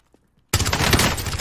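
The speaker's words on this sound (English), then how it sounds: "Someone's shooting me from the back." Gunfire bursts out in the Warzone video game after a near-silent half second with a few faint clicks, becoming a loud, dense, continuous stream of rapid shots.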